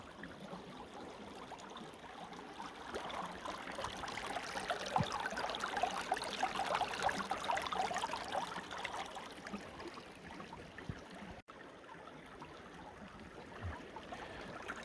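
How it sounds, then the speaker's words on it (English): Water running through a gold sluice box at a creek, a steady, soft rushing trickle that swells a little in the middle and then settles back, with no voices. "let's get these ones run through the sluice box."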